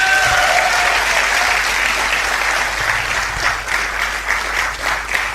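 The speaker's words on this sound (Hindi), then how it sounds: "जोरदार तालियां स्वागत करें।" Audience at an Amway direct-selling seminar applauding, a dense, steady wash of clapping from many hands that carries on throughout, with a faint voice briefly audible near the start.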